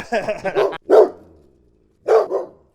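A female dog barks for a treat several times in quick bursts, loud and close, followed by a pause and another single sharp bark.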